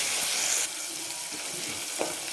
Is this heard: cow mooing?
no